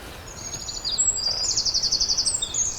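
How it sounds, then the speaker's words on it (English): A tiny wren sings a loud, rapid trilling song at dawn, a bright run of fast repeated notes rising over a quiet background. "we've now got the wren singing. So a really loud, trilling song"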